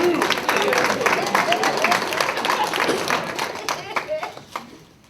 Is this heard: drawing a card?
no